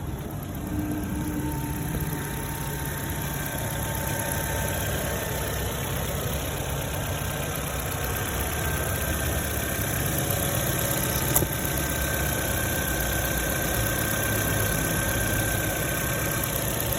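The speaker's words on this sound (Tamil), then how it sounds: "இந்த வண்டியோட இன்ஜின் நாய்ஸ்லாம் கேட்டிருப்பீங்க. ரொம்ப சூப்பர் அண்ட் ஸ்மூத்தான கண்டிஷனில் இருக்குதுங்க." A 2006 Ford Fiesta's engine idles in smooth condition, a steady, even mid-pitched hum with faint vibration, holding constant close up for the whole stretch without any voices.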